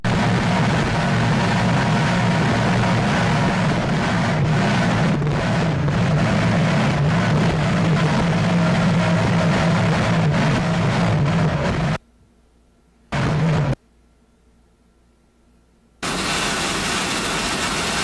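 Three Mercury 2.5 EFI outboard engines power a race boat on the Chesapeake Bay, a loud, steady engine drone with wind buffeting, then cutting abruptly to near silence with a brief burst before the roar returns.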